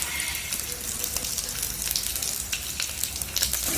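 Onion hits a hot pan for chilli mushroom and fries with a bright, continuous sizzle and crackle, close and fairly loud, with occasional light stirring scrapes and no voices.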